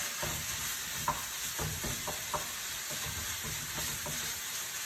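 Ground meat browning in a hot pan, a constant frying sizzle with repeated soft scraping and tapping as the meat is broken up.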